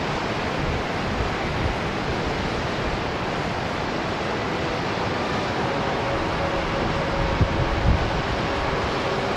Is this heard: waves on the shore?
yes